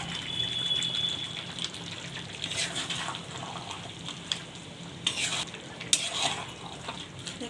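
Potatoes being stirred into cooked mutton in a pan, a continuous close sizzle with scraping strokes and a couple of louder clatters toward the end.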